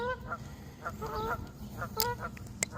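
Geese honk repeatedly from nearby along a creek, a series of harsh overlapping calls in uneven bursts over low background noise.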